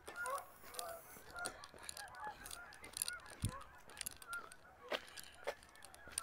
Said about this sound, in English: More geese.